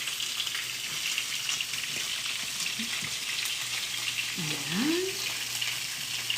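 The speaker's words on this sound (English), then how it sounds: "Now I'm going to give my risotto a little stir." Saffron risotto being stirred in a pan, with a steady close sizzling hiss throughout and a brief spoken word partway through.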